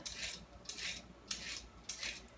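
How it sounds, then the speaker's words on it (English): Carrots are peeled with a peeler in repeated scraping strokes, about five crisp rasping swipes in quick rhythm, close and fairly quiet. "Alright, so my carrots need to be peeled"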